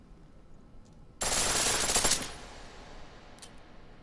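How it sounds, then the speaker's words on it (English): A pistol fires a rapid full-auto burst in the video game Deus Ex: Mankind Divided at a shooting range, about a second of tightly packed shots, loud against a quiet background. "The pistol in full auto will take down targets fast"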